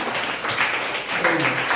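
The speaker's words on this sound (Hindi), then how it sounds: "इनके लिए जोरदार ताली बजा दीजिए" Schoolchildren in a classroom clapping for a classmate, a short burst of scattered hand claps with faint voices mixed in.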